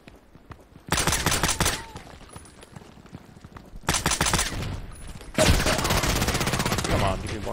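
A silenced FN Five-seven pistol with a W-Task suppressor fires in a shooter video game, in three separate bursts of rapid, close, punchy shots broken by short pauses.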